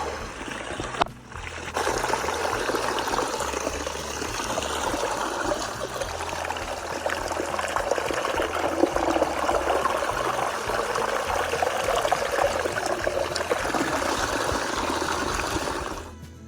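Steady trickle of a water source beside a hiking trail on the way down a hill, a continuous close, even flow holding for most of the stretch after a brief quiet start.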